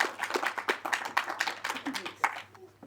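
A small audience at a film screening claps for the director in a thin, uneven patter of individual hand claps that tapers off toward the end.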